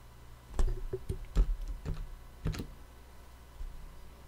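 Commands are typed on a computer keyboard attached to a Raspberry Pi running Mac OS 7: a few sparse, faint keystroke clicks in an uneven rhythm over quiet background hiss.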